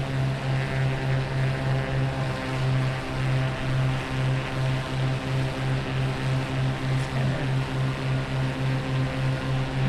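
A propeller airplane drones steadily in a flight simulator game, its engine hum constant and close with a strong low tonal buzz throughout and no talking.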